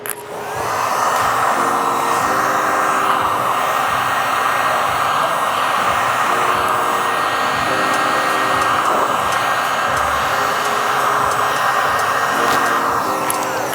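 A heat gun blows a continuous loud whooshing hiss over window tint film on the curved rear windshield of a Mitsubishi Eclipse hatchback, with slight pitch shifts as it moves, close up for the whole stretch.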